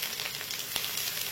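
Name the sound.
grated ingredients frying in a pan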